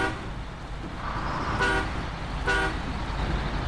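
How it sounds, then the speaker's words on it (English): Two short truck horn blasts in the video game SnowRunner sound about a second apart over a steady engine rumble, loud and close. "I like the sound of it, I like the sound of the horn."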